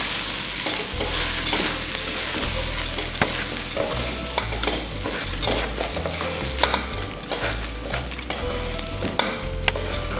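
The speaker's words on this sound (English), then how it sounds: "the next thing that will be going in will be the basmati rice" Basmati rice is stirred in a hot pot, with continuous close scraping and rustling strokes over a steady low sizzle, and no voices.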